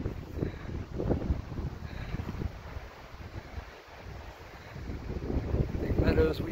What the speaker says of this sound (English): It's a little chilly. A little blustery.